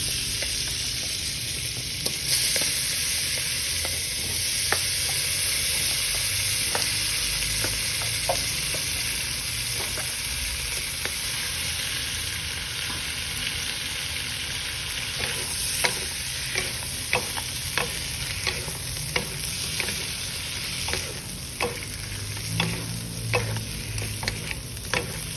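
Shrimp for ginataang hipon, a coconut-milk dish with vegetables, fries in a pan while being stirred, giving a steady close sizzle with scattered scraping clicks from the utensil throughout and no talk.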